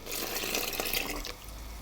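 Coffee and milk pour into a buttery devil's food cake mixture, a soft steady liquid splash and trickle, close and fairly quiet, tapering toward the end.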